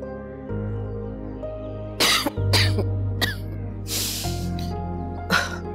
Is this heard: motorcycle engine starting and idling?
no